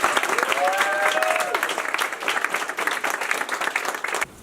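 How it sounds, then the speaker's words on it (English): An audience gives a round of applause for entrepreneurs at a pitch competition, dense steady clapping filling the room before cutting off abruptly. "Let's hear another round of applause for all the entrepreneurs."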